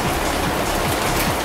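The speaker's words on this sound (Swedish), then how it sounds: "Jävlar vilka hagel!" Large hail pelts down in a violent storm in Linköping, Sweden, a dense, loud clattering patter of impacts close by, continuous and without talk.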